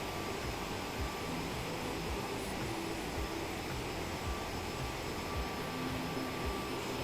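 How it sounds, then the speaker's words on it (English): Steady, broadband roar of a jet passing high overhead heard from inside a small aircraft cabin on a flight from Salt Lake City to Albuquerque, a constant dense engine and air noise throughout with no voices. "That jet right above us."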